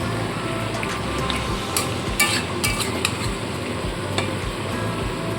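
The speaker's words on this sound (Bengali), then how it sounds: "ইলিশ মাছের মাথা তেলটা দিয়ে একটু নাড়াচাড়া করে নিয়ে" Hilsa fish head sizzles steadily in hot oil while being stirred in the pan, with occasional soft clinks of the utensil against the cookware.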